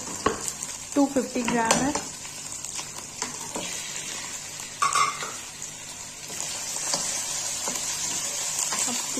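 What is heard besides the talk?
chicken frying and being stirred with onions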